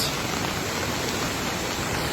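Steady, dense rainfall, a constant even hiss of drops with no breaks or voices.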